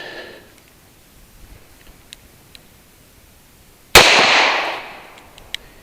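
A Glock 43X pistol fires a single sharp, loud shot over a chronograph at an outdoor range, with a bright crack and a decaying echo after faint ticking and quiet.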